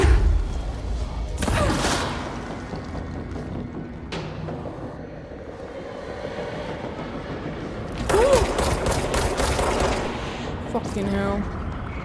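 Enemy grenade launcher shots in the video game Control land as heavy booming thuds and explosive bursts, several spread across the stretch, with someone talking over the action.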